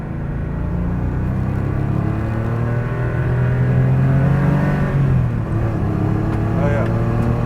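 Porsche 911 Safari Sportsman engine driving on the road, a steady close rumble with rising and falling revs as it accelerates, and people talking over it.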